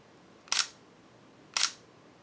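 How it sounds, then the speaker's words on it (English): Two crisp camera shutter snaps sound about a second apart, each a quick bright click-clack as the shutter curtain opens and closes, close and clean against a quiet background. "that's also where you get that shutter sound"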